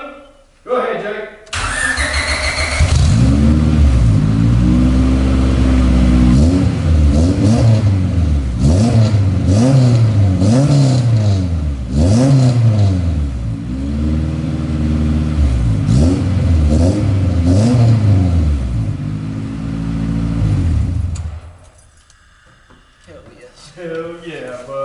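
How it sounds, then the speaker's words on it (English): A B16 engine swapped into an EF Honda hatchback cranks, catches and revs hard repeatedly in loud rising and falling sweeps, then drops to idle and cuts off as voices react near the end. "Let the neighbors know that the B16 SWAP is running."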